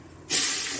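Cumin seeds hit hot oil in a home kitchen, with a sudden close hiss that bursts in after a brief quiet moment and holds steady to the end.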